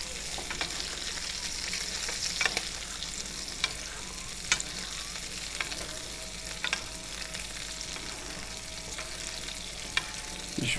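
A steak sizzles loudly and steadily in a pan as it is basted with butter, rosemary and garlic, with sharp clicks of the spoon scattered through the frying.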